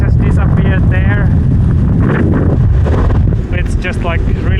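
Wind gusting around a boat frozen into ice, heavy low rumbling buffeting against the microphone, loud and continuous, with a voice talking faintly underneath.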